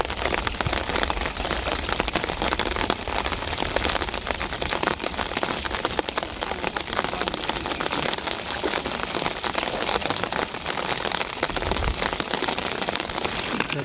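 Heavy rain falls steadily during village fishing at a wetland in a thunderstorm, a dense, even hiss of drops hitting water and surfaces, close and unbroken for the whole stretch.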